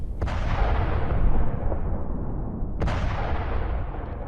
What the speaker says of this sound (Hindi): भीषण बमबारी की तस्वीरें भी सामने आई हैं, जहां एक के बाद एक धमाके किए गए हैं।